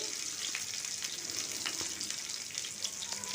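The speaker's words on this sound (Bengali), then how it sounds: "তারপর রসুনটা দিয়ে দিচ্ছি তেলের মধ্যে," Garlic sizzles steadily in hot mustard oil, a soft, even crackle with faint stirring ticks, fairly quiet and without any speech.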